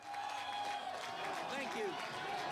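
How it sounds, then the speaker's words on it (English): Enthusiastic applause and cheering for a candidate at the 2012 Iowa Republican caucus, a dense continuous crowd roar with clapping and a voice speaking over it. "I got enthusiastic applause over there."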